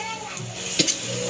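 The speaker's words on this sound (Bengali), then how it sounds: "মশলা দেওয়া জলটাই দিলাম।" Spiced masala water tips into okra (bhindi) frying in a pan, giving a brief hiss and splash with a couple of light clinks of utensil against metal, close and short.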